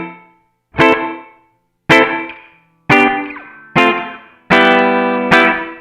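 Guitar chords are strummed through a BOSS RV-6 reverb pedal with the time knob turned down. Six separate loud strums each ring briefly and then cut off quickly, leaving short gaps between them.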